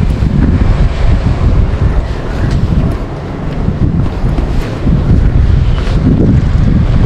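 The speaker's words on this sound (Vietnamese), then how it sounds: "trưa nay có vài ngọn gió làm cho mặt sông lấm tấm gần sóng" Wind gusts over an open river at midday, buffeting the microphone with loud, uneven low rumbling that swells and eases, over a faint wash of water.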